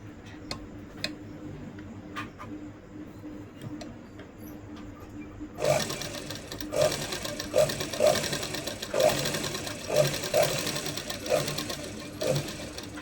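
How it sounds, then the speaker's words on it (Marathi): A sewing machine stitches a blouse piece and its lining laid one on top of the other, starting after a quiet stretch and running in a steady rapid patter with small bursts and pauses, fairly close. "त्याच्यानंतर हे एकावर एक ठेवल्यानंतर आपण एक टिप मारूया।"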